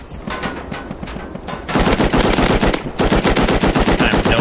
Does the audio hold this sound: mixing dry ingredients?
no